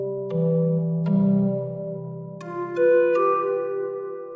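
A MicroFreak synthesizer with its effects switched on plays a short run of bright, bell-like tones, cute and video-game-like, several notes ringing out and overlapping alone over about four seconds.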